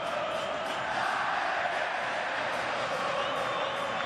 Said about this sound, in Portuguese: A torcida do Lanús canta timidamente. Agora vai ganhando um pouco mais de força.